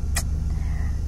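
A car drives along a narrow lane, a steady low engine and road rumble heard from inside the cabin, with a short sharp click near the start.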